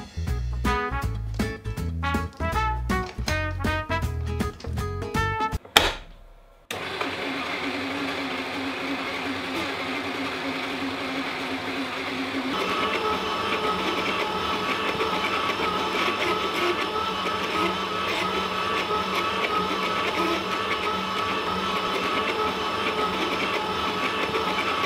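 An old Kenwood Chef Major stand mixer starts after a burst of rhythmic clattering, then settles into a continuous whirring motor drone that grows slightly louder and busier partway through, close and steady with no talking.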